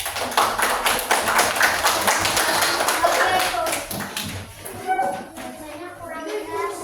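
Children in a classroom clapping for a group, a scattered patter of small hands with some chatter and a few young voices in the background, fading somewhat midway.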